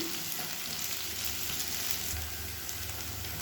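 Parboiled potatoes roasting in oil in a pan on a medium flame give a dense, even crackling sizzle that runs without a break, close and moderately loud, with no voices.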